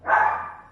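A single close, loud dog bark from a dog in the Honkai Star Rail video game, a short sharp burst that fades out quickly.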